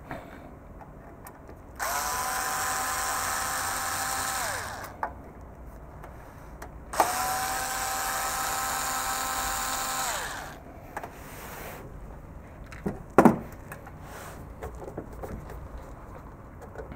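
A power screwdriver backs screws out of an EMC VPLEX VS2 data storage unit in two long, steady whirring runs of about three seconds each, close and loud, followed by a few short clicks and clatters of parts.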